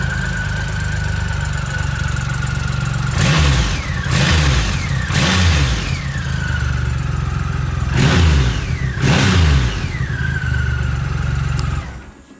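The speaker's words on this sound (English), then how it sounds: "I'll start the bike up for you quickly." A Triumph Rocket III Roadster X motorcycle engine idles loudly and steadily, then gets blipped in four sharp revs, two close together and two more later, each rising and falling back to the idle.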